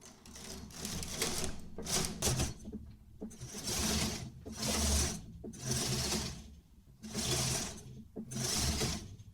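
A knitting machine carriage runs back and forth across the needle bed knitting rows, each pass a loud rhythmic mechanical whirring and clatter separated by brief pauses, repeating about five times.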